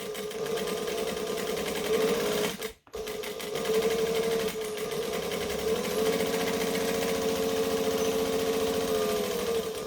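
Sewing machine stitching a bag seam, a loud continuous close-up motor whir with a rapid needle rhythm, broken by one brief pause before running steadily again.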